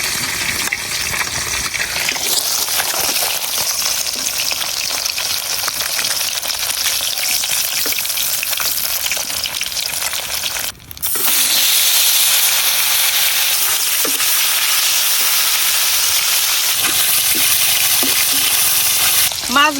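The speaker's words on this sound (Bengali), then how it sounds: "মাছগুলো এরকম হালকা একটু ভাজি করে নিচ্ছি" Carp fish pieces fry lightly in a pan of oil, giving a loud, steady sizzle and hiss that continues almost without break, dipping briefly midway before resuming.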